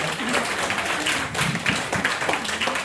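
Audience clapping to welcome a woman, a director, onto a training stage, a steady wash of applause lasting throughout, moderately loud and slightly distant.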